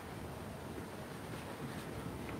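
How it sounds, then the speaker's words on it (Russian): Outdoor wind rushes and buffets the microphone as a steady, broadband roar that holds at a fairly loud level throughout, with no voices. "Ветер поднялся."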